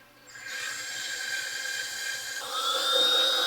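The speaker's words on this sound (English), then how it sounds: "Now you can start drilling it." Power drill boring into an aluminum part for a bubble wheel balancer: a close, steady high-pitched whine that starts abruptly, holds level, then shifts in pitch and grows slightly louder near the end.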